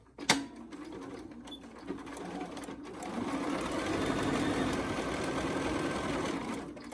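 A sewing machine stitches pleated face masks in an assembly line, its steady mechanical whir running close and continuous, growing slightly louder and denser midway with a few small clicks near the start.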